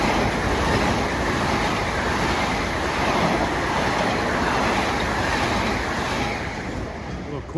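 A Long Island Rail Road M7 electric commuter train runs east on triple track near Carle Place and Mineola on a damp day. It rushes past close and loud as a steady roar for the whole stretch, easing slightly near the end.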